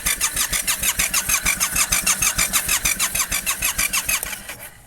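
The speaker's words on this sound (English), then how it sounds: "what I'm doing right now is cranking the bike just to get some oil pressure built up." A Yamaha FZ07 motorcycle engine being cranked over by its starter without firing, a fast even chugging pulse that runs steadily for about four seconds before winding down, close and loud.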